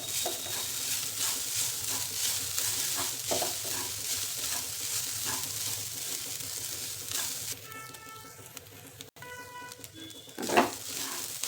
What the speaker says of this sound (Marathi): फिश छान दोन तीन मिनिट परतून घ्यायचं